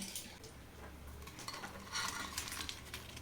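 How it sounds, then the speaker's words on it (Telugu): Egg bondas frying in hot oil give a faint, steady sizzle, with light clinks of a utensil against the pan and no speech. "మిగతా ఎగ్స్ని కూడా ఇలా ఆయిల్లో ఫ్రై చేసేసుకుంటే సరిపోతుంది"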